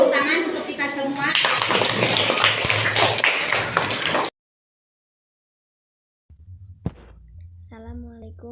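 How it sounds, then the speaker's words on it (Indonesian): Primary school students at an Indonesian school clap together in a short, lively burst of mixed claps and voices that stops abruptly, followed by silence and then faint room noise with a brief tap and a voice. "Tepuk tangan untuk kita semua"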